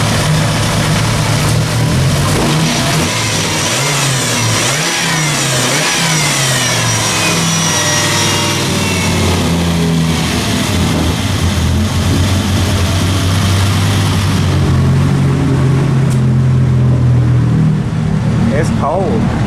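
A Dodge Ram SRT10 truck engine runs and revs during a test run in cold weather, a loud, close, rumbling engine note that rises and falls throughout, with speech heard over it.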